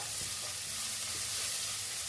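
Garnish frying in a pan until brown for ghee rice, a steady, even sizzle that stays dense and constant throughout, close and moderately loud with no voices.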